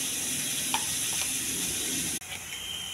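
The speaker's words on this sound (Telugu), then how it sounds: "కొద్దిగా ఆయిల్ అండి, కొంచెం జీలకర్ర, కొద్దిగా ఉల్లిపాయ దోరగా వేగించుకోవాలండి" Onion and garlic paste fries in oil with cumin in a pan, a continuous close hiss of sizzling broken by a brief stir and a sudden short dropout before the frying noise resumes.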